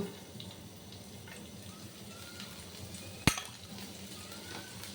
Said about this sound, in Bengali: এখন রসুনটাকে ভালোভাবে ভেজে নেব।